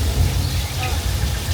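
Artificial rain effect on the Universal Studios Hollywood studio tour, a steady dense hiss of falling water with low rumble, loud and continuous throughout with no breaks.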